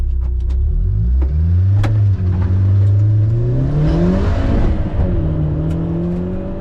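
A car launching hard on a sprint run at Lydden Hill circuit, its engine revving up through rising pitch sweeps with sharp gear-change breaks, loud and close throughout as it pulls away.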